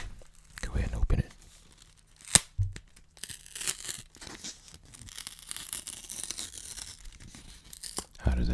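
Foil wrapping on an 85% cocoa chocolate bar is torn and crinkled up close in several sharp, brief rips and softer rustles, interleaved with quiet talking.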